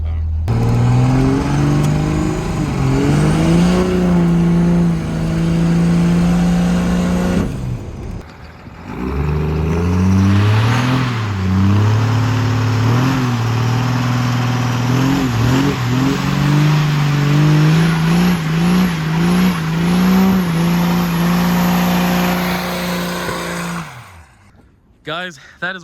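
A 1997 12-valve diesel truck with a six-speed transmission revs and accelerates loudly up close, its engine note climbing through gears with pauses between pulls, while a voice talks over parts of it.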